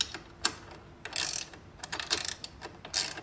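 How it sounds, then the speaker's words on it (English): A 12 mm ratcheting wrench turning a side rack bolt on a BMW G650GS motorcycle, giving short bursts of quick metallic clicking with small pauses between strokes, close and clear. "you will have a 12 mil that ratchets"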